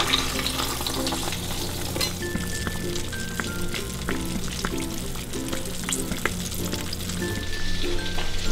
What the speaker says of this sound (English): The bread starts to fry, and we wait until it turns a golden brown on the edges before we turn it over.